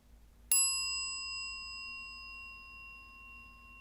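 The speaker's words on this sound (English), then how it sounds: "when I'll ring the bell again" A single meditation bell is struck once, ringing out clear and bright, then slowly fading with a long sustained tone in quiet surroundings.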